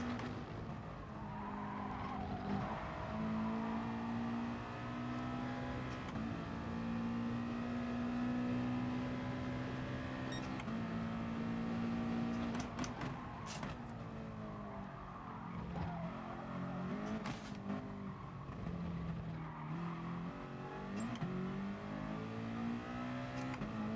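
Race car engine in the video game GT Sport during FIA practice, with worn front tyres, a continuous loud droning whine that climbs and drops through gear changes and corners, with occasional tyre squeal.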